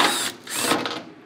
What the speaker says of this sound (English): It's not called drilling a hole, it's installing a test port.